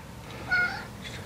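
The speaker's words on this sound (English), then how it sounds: "I got a cat telling me all about how she's helped." A cat gives one short, clear meow close by, set against steady low background hum in a garage-like space while work on a Cherokee is underway.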